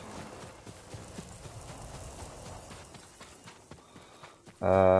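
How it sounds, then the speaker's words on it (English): A horse gallops in the samurai video game Ghost of Tsushima, quick rhythmic hoofbeats pattering at moderate volume under game ambience, ending with a sudden loud burst of sound. "We've got quite a way to go, so let's ride our horse."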